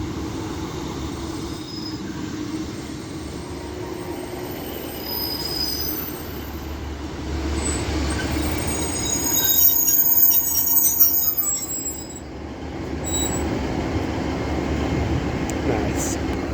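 A Northern class 150 diesel unit, 150-106, departing Castleton station on a Rochdale service, a steady rumbling engine and rail noise that swells midway with faint wheel squeal, heard close on the platform.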